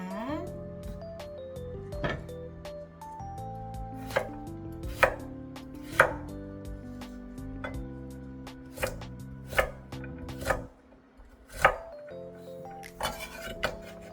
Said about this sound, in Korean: 당근도 딱둑 썰기 해주시면 됩니다. 조그마한 큐브 모양으로 써시면 됩니다.